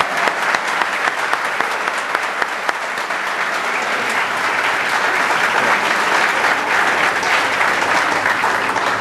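Sustained audience applause at a reunion gathering, a thick wash of many clapping hands that stays loud and even and swells slightly toward the end, with no talking over it.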